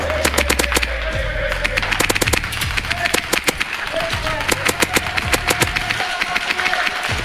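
Rapid bursts of airsoft gunfire crackle through an abandoned mall during a close-quarters game, sharp clustered shots repeating over several seconds with a low rumble beneath and voices mixed in.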